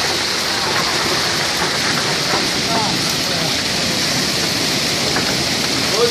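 Heavy rainstorm with golf ball size hail in Hudson, Massachusetts, a loud, continuous roar of pounding precipitation with scattered sharp impacts throughout, voices faintly mixed in.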